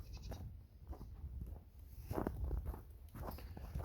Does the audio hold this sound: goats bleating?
yes